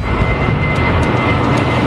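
Steady loud roar of a British Midland passenger airliner climbing to cruising altitude after a normal takeoff, a broad continuous engine drone with a faint high whine, with no voices.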